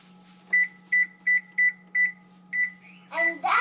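A kitchen oven preheating for kale chips gives a series of about seven short, evenly spaced electronic beeps, moderately loud and close. A voice and some handling noise follow near the end.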